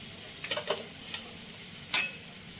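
Chopped green chillies go into a pan of semolina and potato, bringing a faint background sizzle with several distinct scraping stirs and taps of a spoon, close by and without talk.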